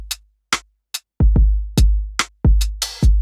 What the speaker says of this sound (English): and with the drums, we're not getting too much swing. We're getting a fairly quantized pattern that sounds like this.